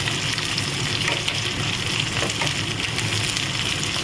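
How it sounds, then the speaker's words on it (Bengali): Three green chillies frying in a pan for chicken kofta curry, a dense even crackling sizzle close by that holds steady throughout, with no talk. "আমি 3টে কাঁচা লঙ্কাও ভেজে নিচ্ছি"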